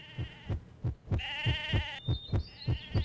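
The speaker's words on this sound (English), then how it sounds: "the weird heartbeat that happens when you approach a bandit" A steady, slow thumping pulse repeats about every third of a second in the fantasy game Mabinogi as a bandit is approached, with a sustained tonal drone and higher chime-like notes layered over the beat.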